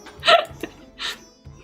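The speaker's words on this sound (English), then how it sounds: "Oh, he's got hiccups." A game character in Graveyard Keeper hiccups twice, with short sharp vocal hics close together, followed by a softer third gulp, alone and fairly clear.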